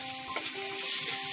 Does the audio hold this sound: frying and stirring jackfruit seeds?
yes